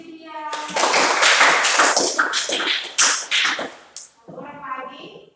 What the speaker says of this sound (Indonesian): Oke, tepuk tangan untuk Lydia.